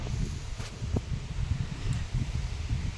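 Trees rustle in steady wind during light rain, a continuous broadband whoosh with low gusty rumbles from wind on the microphone and no clear voices.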